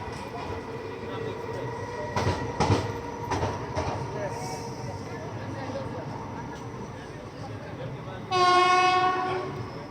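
Nandigram Express passenger train at Parbhani Junction rumbles along the rails with a few sharp clanks and rattles, then a loud, sustained horn blast sounds near the end over continuous background noise.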